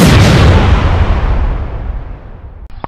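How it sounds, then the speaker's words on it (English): A loud, booming explosion sound effect that bursts at once and then rolls and decays over about three seconds, ending with a faint click. "Explosions!"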